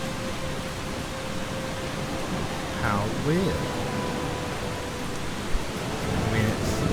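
Rain sets in within the video game Eastshade, a dense steady hiss of falling water filling the scene, with a brief chirping bird call and a voice speaking over the noise.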